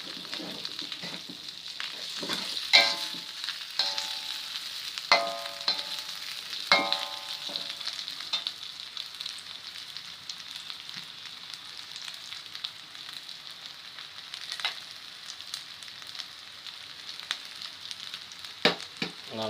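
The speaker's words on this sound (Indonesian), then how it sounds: "Bakso. Tumis terlebih dahulu." Meatballs sauté in a pan for seblak, a steady soft sizzle and hiss running throughout, with occasional clinks and stirring scrapes of a utensil against the pan, close and fairly quiet.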